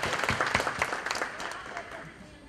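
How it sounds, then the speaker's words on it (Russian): Audience applause for a group at a business talk event, a brief scatter of clapping from a modest crowd that thins out and fades over a couple of seconds. "Аплодисменты этой группе, да?"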